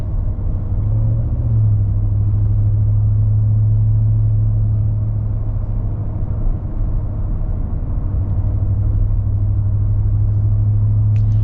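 A Ford F-150 Black Widow V8, a lifted 2025 truck, rumbles at a steady low idle, close and continuous throughout with no voices.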